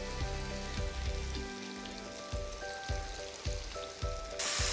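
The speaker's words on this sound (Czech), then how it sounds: "A stejně jak kapra smažíme na rozehřátým vepřovým sádle." Breaded fish fillet frying in hot pork lard, a steady sizzle with crackling bursts and a few soft periodic thumps, close and moderately loud without talk.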